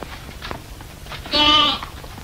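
A lamb bleats once, a short wavering cry near the end that is loud and close, set against a faint background on a Western stage show.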